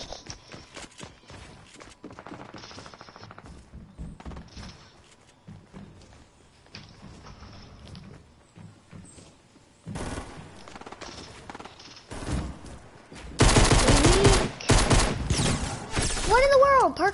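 Gunfire in a Fortnite Battle Royale match: faint scattered shots early on, then loud rapid bursts from shotguns and SMGs crowd the last few seconds of the clip.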